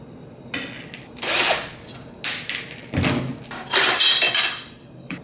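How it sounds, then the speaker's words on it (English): A power drill spins screws out of the front plate of a Better Packages BP555e gummed tape dispenser in several loud whirring bursts separated by short pauses, with faint metallic clinks in between. "I'll start by taking these two screws out with the power drill"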